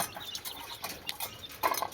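A chicken clucks in short, irregular bursts, fairly close, with a louder cluck near the end.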